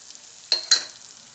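Capsicum, cabbage and carrots sauté over a high flame for veg Manchurian, a soft hiss with two quick bursts of sizzle as the vegetables hit or are tossed in the pan.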